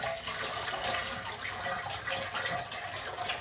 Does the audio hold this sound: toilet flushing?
yes